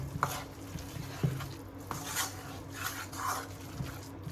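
A spoon stirs sugar into a potato and pea samosa filling, giving soft, quiet scraping and scuffing strokes at an unhurried, uneven pace, with no talking.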